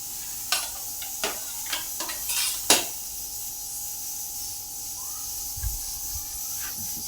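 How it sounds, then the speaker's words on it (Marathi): A knife slices through fried rolled colocasia leaf rolls on a board, giving a few sharp, separate cutting taps close by against a faint background hiss, with no talking. "तर आता आपण हे दोन ते अडीच इंचावर अशी कट करून घेऊया"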